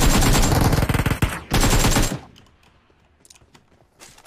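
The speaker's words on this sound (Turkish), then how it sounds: "Uzi sıktı ya kanka, duymadın mı sesini ya?" Uzi submachine gun fire in PUBG Mobile: a loud, rapid automatic burst, a brief break, then a second dense burst, followed by quieter scattered game sounds.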